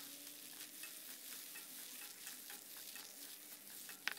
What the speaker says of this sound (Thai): แล้วก็ให้เราผัดให้เข้ากันนะครับผัดให้มะเขือเทศของเราสุกเลยนะครับ